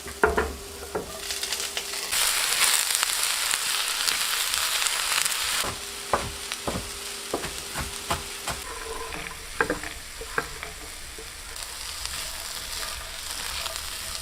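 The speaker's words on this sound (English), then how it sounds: "I just added some olive oil and I'm going to put in the Brussels sprouts now" Brussels sprouts sizzle and fry in olive oil in a pan at an off-grid cabin in Alaska, a steady hiss with occasional stirring clicks and taps.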